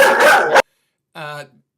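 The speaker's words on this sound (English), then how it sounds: "the dog is barking" A dog barks and whines once, a short harmonic yelp standing alone after a burst of someone talking loudly on a live stream.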